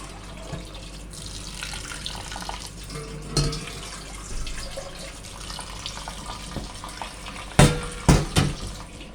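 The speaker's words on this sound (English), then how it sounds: "Let the water drain." Water trickles and splashes as cooked spinach and dal are strained, a continuous faint stream punctuated by a few louder clanks of utensils near the end.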